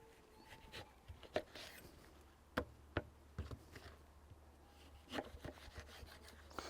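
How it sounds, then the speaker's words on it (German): A knife halves and quarters an orange on a cutting board, with a few sharp, close knocks and soft slicing scrapes against a quiet background, no talking. "Die wird jetzt von mir halbiert und geviertelt."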